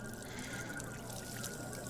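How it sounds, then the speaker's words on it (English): Water pours into a kettle in an HTC Vive VR game, a faint, continuous trickling splash heard alone over soft background noise. "So grab the kettle, pour the water in."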